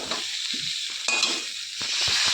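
Spices and ingredients being stir-fried in a pan for a Bengali dish: a steady frying sizzle runs throughout, with several scraping and stirring strokes of a utensil against the pan, close and clear, with no talking.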